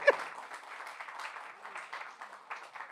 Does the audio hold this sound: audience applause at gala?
yes